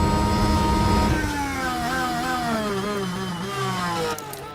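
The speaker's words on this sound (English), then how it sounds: "Engine revving like crazy there with full braking push, battery push, DRS, slipstream" A Formula 1 engine in the racing game F1 Manager 24 screams at high revs, its pitch sweeping downward in harmonic stages as the car slows, loud and continuous without talk.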